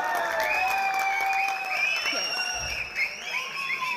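Applause breaks out from the crowd at a Pongal function held by a Tamil association in the UAE, clapping under tonal music or voices, with some cheering and a slight fade toward the end.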